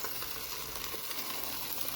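Steady close sizzling of sausage frying directly on a camping stove surface, a dense crackling hiss that continues without pause and with no voices.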